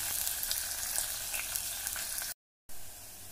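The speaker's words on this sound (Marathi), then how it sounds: "कांदा चांगला लालसर होईपर्यंत भाजायचा, 2 मिनिटं चांगला कांदा लालसर होईपर्यंत आपण भाजून घेऊया तेलात।" Onion frying in oil for mutton rassa, a steady close hiss and sizzle that continues without pause apart from one brief cut near the end, with no talk over it.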